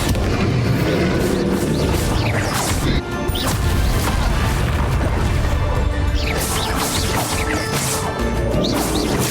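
Spell blasts and crashing impacts during a final boss fight in Hogwarts Legacy, loud and dense, with repeated smashing hits and bursts across the whole stretch and a short dip near the third second.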